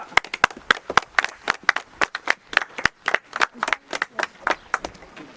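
Uneven hand clapping from a small group in a village gathering, sharp claps in a loose irregular rhythm for several seconds, fairly close and clear with no talking over it.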